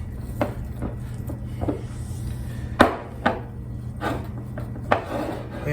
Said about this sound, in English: We're going to see if we can't chop it up and use it.